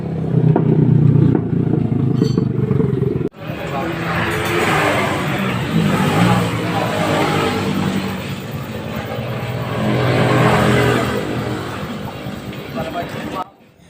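A noisy Motorstar Starx 125 motorcycle engine, with a very loose timing gear pin, runs with a rough, clattering drone. It cuts out abruptly for a moment, then resumes loud and rattling under a voice.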